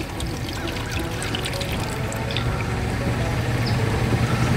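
Fire dye being poured into purified water in a minnow bucket fitted with an aerator, a continuous close splashing pour that builds slightly, with a low engine-like hum underneath and no talk.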